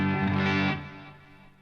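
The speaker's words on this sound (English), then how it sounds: "Let's put on some delay and reverb." A distorted, harmonically rich instrument tone run through delay and reverb pedals, sustaining loudly before fading into a lingering echo tail.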